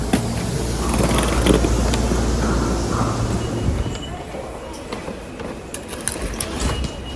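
A Tokyo train rolls along with a steady rumbling, clattering hum that is loud early on and eases slightly toward the end, with faint onboard noises over it.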